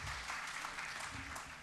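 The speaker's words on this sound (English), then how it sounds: "I think we all must welcome him here with a clapping of the hands" An audience claps to welcome a speaker, a short, steady patter of applause heard somewhat distantly, with faint voices underneath.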